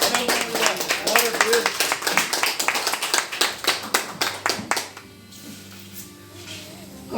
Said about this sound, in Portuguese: Se assenta aplaudindo o Senhor Jesus.